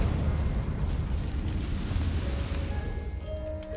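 A Confringo explosive spell cast in Hogwarts Legacy gives a sustained, loud rumbling blast that stays dense and steady throughout, with faint tonal game sounds creeping in near the end.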